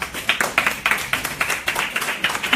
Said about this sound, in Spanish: Listo, un aplauso para sus compañeros.